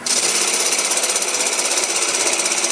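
A wood lathe turning a bowl bottom as a gouge cuts the wood, giving a steady, loud, continuous rough hiss and buzz throughout with no pauses.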